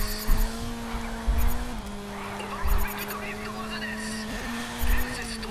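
A car drifting in the racing game Race Driver: GRID, its engine humming steadily while tires squeal and skid in repeated bursts, with a person talking over it.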